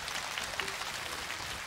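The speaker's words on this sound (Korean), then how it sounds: "다음 분 모시겠습니다. 박수 주세요." A studio audience applauds at a televised national singing contest in Busan's Suyeong district, a steady wash of clapping heard at moderate distance throughout a short stretch, with no voices over it.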